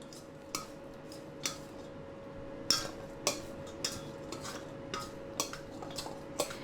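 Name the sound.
mixing mushrooms for vegan pulled pork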